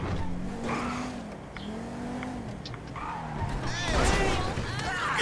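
A car in the video game GTA V revs and accelerates, with tire squeal and skidding building toward the end. The engine stays loud and close beneath ongoing talking.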